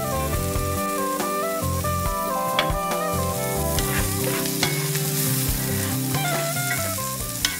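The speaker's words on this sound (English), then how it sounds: "We're just gonna sweat this down" Garlic sweats in a pan with a pinch of salt, giving a continuous close sizzle and crackle with occasional light scrapes from a stirring utensil.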